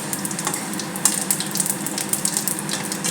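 A spoonful of cumin seeds crackles and sizzles in hot oil as a tempering for dal, a steady close frying hiss with small pops and a few sharper spits, no voices.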